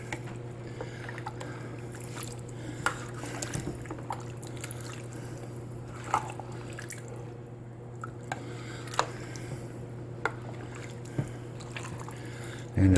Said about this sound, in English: And then we want to stir this up all over again.